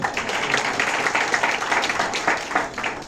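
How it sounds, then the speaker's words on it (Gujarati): Audience applause for women performers of a Nagar community group after a Garba program, a steady, fairly loud crowd clapping that holds throughout with slight swells, no speech over it. "આ બધી જે મારી નાગરાણીઓ બેઠી છે ને એ તાળીઓને હકદાર છે"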